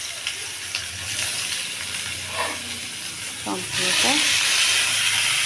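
Ingredients fry in hot oil with a steady close sizzle and hiss that swells louder toward the end, while a voice speaks briefly over it.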